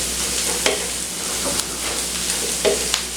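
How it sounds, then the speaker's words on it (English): Dried thyme being stirred into a sizzling chicken soup base in a pot, with a constant frying hiss and a few sharper scrapes of the spoon, close and without talk. "I'm going to stir it in there."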